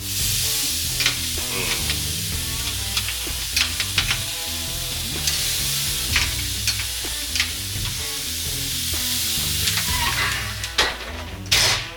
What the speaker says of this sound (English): You're gonna hear that sizzle.